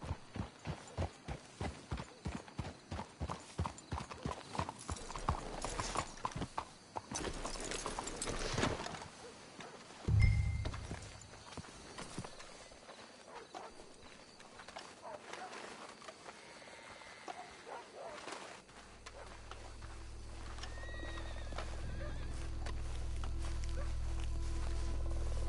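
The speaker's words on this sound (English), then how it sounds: "Let's hitch your horses up ahead." Horses' hooves clip-clop in a rapid, close walking rhythm in a video game, then fade out, leaving quieter ambience and a low rumbling swell.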